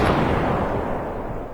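A huge magical explosion unleashed by troops in an anime battle erupts with a loud, booming blast that rumbles and fades over a second and a half.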